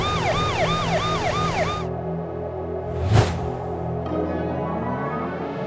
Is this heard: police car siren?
yes